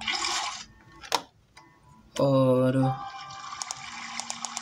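A water bucket being filled in a video game: a brief splashy burst of water, then a short bubbling pour. A few faint clicks sound around it, and a voice speaks briefly.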